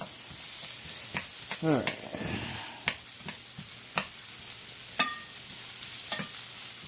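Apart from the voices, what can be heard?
greens sizzling and being stirred in a pan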